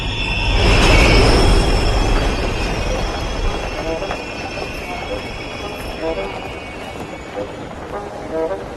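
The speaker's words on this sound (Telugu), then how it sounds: "అండర్ గ్రౌండ్ లో కూడా ట్రైన్లు నడుపుతున్నారు" An underground train runs with a loud, steady rolling roar and high wheel squeal, swelling near the start and then continuing at a slightly lower level with rhythmic clatter throughout.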